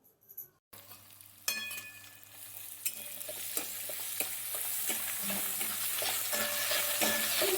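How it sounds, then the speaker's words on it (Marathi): Onion goes into a pan of sizzling ginger-garlic paste for hotel-style palak bhaji, a sharp clatter followed by steady frying hiss that builds, with spoon scrapes and light clinks of stirring, close and without speech. "आता ही आलं लसणाची पेस्ट परतून घेतली। आता याच्यात आपण कांदा टाकू।"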